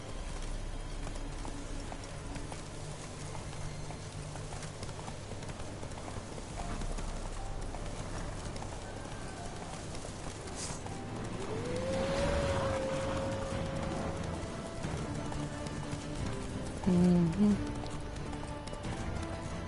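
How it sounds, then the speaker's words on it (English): Roach, a horse in The Witcher 3 video game, gallops with a steady rapid clip-clop of hooves, joined midway by a rising tonal whine and a short burst near the end, with game ambience throughout. "Run, Roach"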